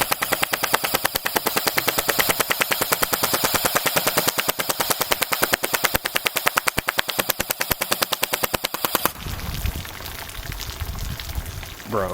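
A Barra 400E Gen 2 electric full-auto BB gun fires a long, rapid, loud burst of evenly spaced shots for about nine seconds, then stops abruptly, leaving quieter handling noise and a brief voice.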